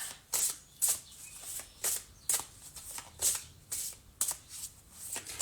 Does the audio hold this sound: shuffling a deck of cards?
yes